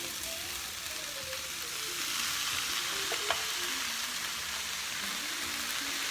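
Ackee for ackee and saltfish sizzles steadily in a hot pan, a dense, even frying hiss that runs throughout, with a single light clink partway through.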